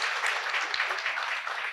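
A literary festival audience applauds in a steady, dense wash of clapping that holds evenly for the whole short stretch, with no voices rising above it.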